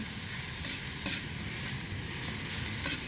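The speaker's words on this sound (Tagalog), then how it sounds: "Gisa-gisa lang natin" Banana heart (puso ng saging) sautéing for adobo in a pan, with a steady dense sizzle of frying and occasional soft stirring scrapes, close and continuous with no talk.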